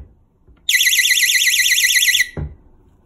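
A magnetic door alarm fires a piercing, warbling electronic siren for about a second and a half, close and very loud, then cuts off abruptly with a short thud afterward.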